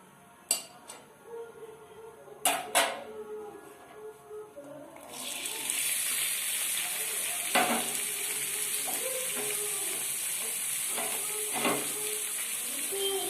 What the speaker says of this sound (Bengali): এরপর আমি এগুলো দিয়ে কিছুক্ষণ ভালো করে নাড়াচাড়া করে ভেজে নেব।